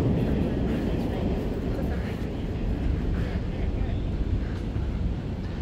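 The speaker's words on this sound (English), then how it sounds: "the noise that you hear down there is like from the train" A deep, continuous rumble of an underground subway train passing below Central Park West in New York City, broad and steady, with faint murmuring voices mixed in.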